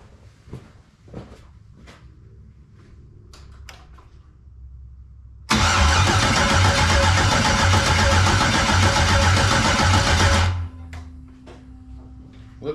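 An LS-swapped 1999 Firebird engine cranks loudly and steadily for about five seconds without catching, then the starter stops, with quieter clicks and shop noise before and after.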